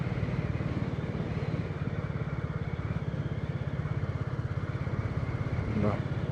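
A motorcycle engine runs steadily with a rhythmic putter and rumble, loud and close, heard while riding on the road from Palpa toward Pokhara in Nepal.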